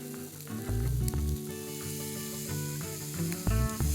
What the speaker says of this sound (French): On cuit la brochette sur toutes les faces pour donner du croustillant au lard